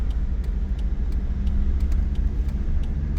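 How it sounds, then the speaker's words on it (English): A Volvo V70 with broken-off bolts in the engine block drives on the road in second gear, a steady loud low engine and road rumble heard from inside the car. "I'm now shifting in second, and now I'm putting on the cruise control"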